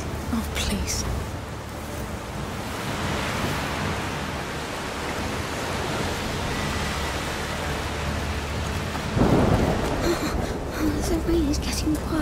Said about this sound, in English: The rain is getting worse. It's just a storm.